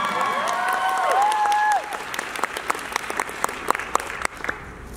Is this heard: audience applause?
yes